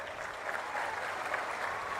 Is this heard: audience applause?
yes